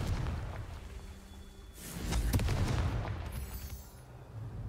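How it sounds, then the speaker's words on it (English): Large stones being blown apart by a fire-blast spell in the Hogwarts Legacy game, a quiet stretch broken by a sudden cracking blast with scattered debris clatter that rumbles for a couple of seconds before easing off. "large stones scattered around that can be blown up with Confringo"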